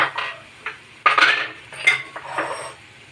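Cooking pan lifted off a gas stove after making tomato posto, a few sharp metallic clanks and scrapes of pan and utensils against each other, close and separated by short pauses.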